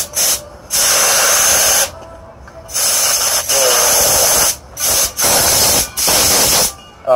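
Nitrogen gas blows through an HVAC system in loud, close hissing bursts, about six blasts of a second or so each, separated by short silent gaps.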